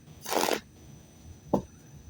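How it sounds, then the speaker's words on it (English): Tarot cards are shuffled in two short riffling bursts, the first longer and the second a quick flick, close and quiet in an otherwise still room. "Shuffling."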